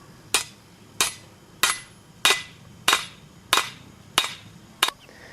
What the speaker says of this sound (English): So we bang that securely into the pre-drilled piece of wood